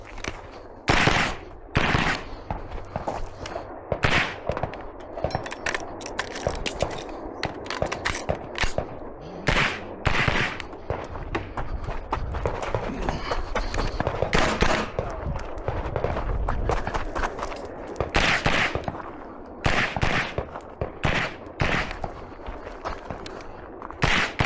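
Rapid strings of pistol shots crack out at an IDPA shooting match stage, loud and close, in bursts with short gaps between strings, with no talk over the firing.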